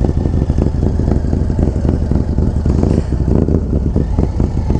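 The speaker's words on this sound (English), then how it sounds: "First gear, we'll open her up in this strip right here." A 2024 Harley-Davidson Street Glide with a 135 engine accelerates hard in first gear, a loud, continuous deep V-twin roar with rapid rumbling pulses and steady wind noise.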